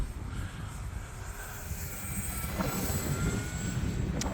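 An E-flite Extra 300 RC airplane flies in wind, its small electric motor a steady whine with pitch shifts, under constant wind buffeting on the microphone.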